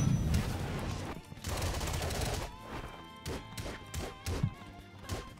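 Sanji's grill shot attack in the game Anime Unlimited lands as a rapid series of loud crashing, gunfire-like impacts and thuds, close and punchy, with no talking.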